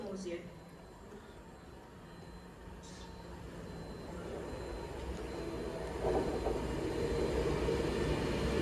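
A Class 390 train, unit 390-126, moves through Warrington Bank Quay station with a low, steadily growing rumble that swells louder toward the end, while station announcements are heard over it.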